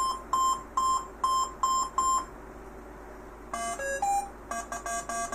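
A Minelab Go Find 60 metal detector, sounding through a phone, beeps on a nail: an opening run of short, evenly spaced beeps, then a pause, then buzzier clusters of shifting tones. The tones are loud and close, with no talking.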